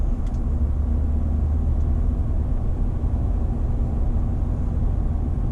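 Ford F-150 Tremor with the 5.0 V8 and a Flowmaster FlowFX muffler, cruising at normal throttle with a low, steady, subdued exhaust drone and road rumble from inside the cab, no voices.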